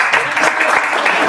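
Audience applause at an industry panel: a short, steady burst of clapping from a crowd, continuous and fairly loud throughout.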